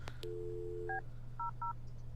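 Telephone keypad tones in the video game Kathy Rain: a short click, then a sustained tone followed by three brief evenly spaced beeps, clear and close over a low hum.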